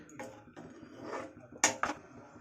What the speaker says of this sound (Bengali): এবার জোর দিয়ে একটু নাড়বো।